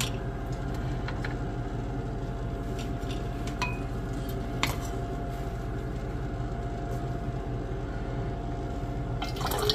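Liquid draining from a container of copper cell slimes, a steady trickling flow with occasional small drips and clinks throughout.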